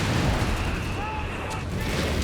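An artillery strike lands on a Sherman tank in Company of Heroes 3, a loud continuous rumbling blast that fills the whole moment, with a faint whistling tone drifting over it.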